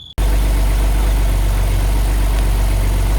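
Alfa Romeo 147 GTA engine idling steadily just after an oil and filter change, starting abruptly after a brief silence and holding a loud, even low rumble throughout.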